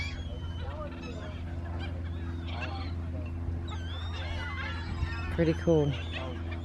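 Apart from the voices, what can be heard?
flock of birds honking at sunset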